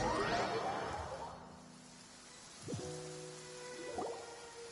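Steady rain falls across an open outdoor area in Genshin Impact, a soft continuous patter and hiss throughout, with a brief whoosh near the start and low tonal game sounds rising underneath later on.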